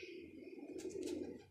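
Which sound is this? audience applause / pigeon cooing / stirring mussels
pigeon cooing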